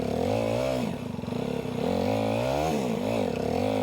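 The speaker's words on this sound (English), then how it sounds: "the poor TW cried out in pain" A Yamaha TW200 motorcycle engine revs hard in snow, a loud, strained, wavering drone that rises and falls, held near redline close to the listener.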